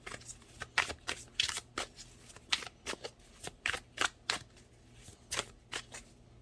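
Tarot cards being shuffled by hand, a rapid run of crisp riffling bursts and soft slaps in an irregular rhythm, close and fairly quiet with no voices.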